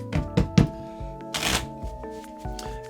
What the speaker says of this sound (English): So, what you do is you shuffle up these cards